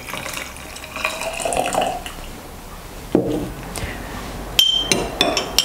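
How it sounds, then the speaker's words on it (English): Hot water phase poured into an oil phase while making homemade chamomile lotion: a steady close-up splash and trickle with a few light glassy clinks, growing louder toward the end. "the next step is just pouring the water phase into the oil phase"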